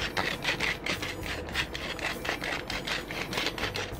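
A small pepper mill grinds black pepper over a pan of cream carbonara sauce, giving a steady scratchy rasping crunch in quick repeated bursts, close and fairly loud, with no talk.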